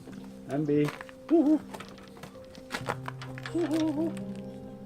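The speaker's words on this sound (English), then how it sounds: "The Eurasian eagle owl." A Eurasian eagle owl gives deep hoots in several short bursts, close and moderately loud, with people talking quietly around and between them.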